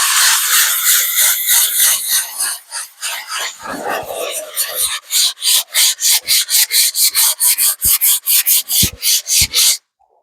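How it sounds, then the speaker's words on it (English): A sanding block rubs back and forth over wood on a fingerboard obstacle diorama. Close, loud, raspy strokes run continuously at first, then settle into a quick, even series of about a dozen separate passes before stopping. "I forgot to mention in the very beginning that you'll need a sanding block."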